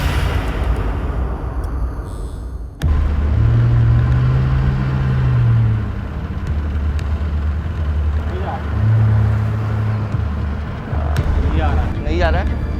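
Boat engine at full throttle on the Narmada River, pushing the boat against the current. A loud, steady low rumble and churn runs throughout, swelling in surges, with voices faintly beneath it.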